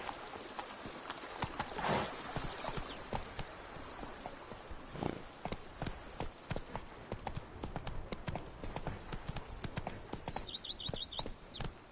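Hoofbeats from Roach, a horse in the video game The Witcher, clip-clop at a steady trotting rhythm through most of the stretch, close and fairly loud against a faint outdoor ambience, with a brief high chirp near the end.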